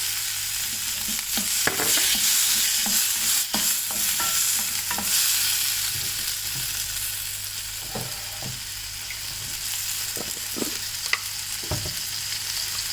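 Chopped tomato is sautéed with salt among softened ingredients in a pan for a Tamil mushroom masala gravy, making a bright, continuous sizzle overlaid by repeated spatula scrapes and taps as it is stirred.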